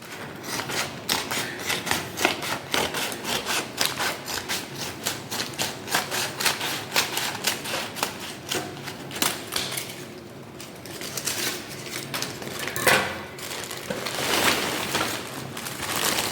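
Crinkling, rustling packaging as a box of Crocs clogs is opened, a steady busy stream of close papery and plastic handling noises with brief pauses and louder rustles near the end.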